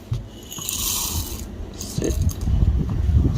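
Roasted coffee beans are ground by hand in a manual grinder, making a rough, crunching and rattling sound that grows louder and denser toward the end, with a little speech early on.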